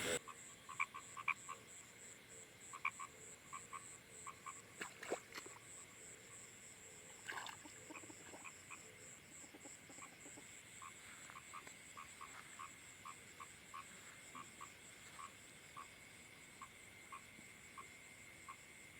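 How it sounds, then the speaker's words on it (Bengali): A frog calls at night beside a path, its short croaks repeating steadily in a regular series, fairly close and clear, with a few louder knocks and bumps early on and no talking over it. "রাত্রে যাওয়ার পথে একটা ব্যাঙ কিভাবে ডাকে দেখুন"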